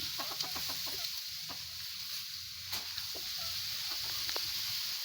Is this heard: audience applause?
no